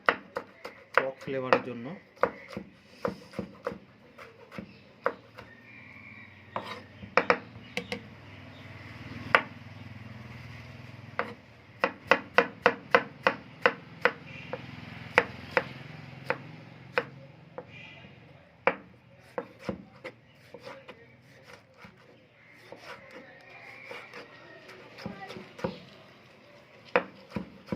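Knife chopping a tomato on a board for a fish tawa fry, sharp irregular thuds in quick bursts, close and clear, with a person talking over parts of it.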